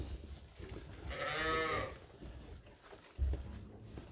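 Inside a barn, a single drawn-out bleat comes from a flock of Dorset and Suffolk ewes heavy with lambs, followed by a dull thump against a low background murmur.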